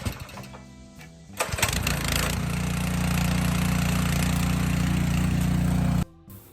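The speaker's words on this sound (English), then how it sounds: "I like to run a pressure washer, so y'all, let's get this thing cranked up" A pressure washer's small gasoline engine, used for cleaning animal hides, cranks with a few sputtering pulls, catches, and settles into a loud, steady, close running drone before cutting off abruptly near the end.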